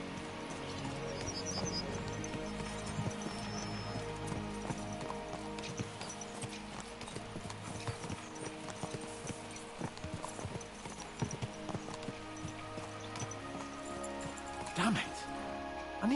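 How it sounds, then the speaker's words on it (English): Horses' hooves clip-clop steadily on the ground in the video game Kingdom Come Deliverance 2, a continuous rhythmic trot with rain pattering lightly, an occasional whinny and a voice talking over it. "Let's really spur these horses on, eh?"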